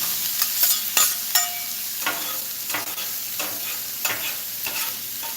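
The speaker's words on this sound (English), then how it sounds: "listen to that sizzle" Burgers sizzle on a hot grill, a steady crackling hiss with sharp pops and scraping stirs, close and moderately loud with no voices.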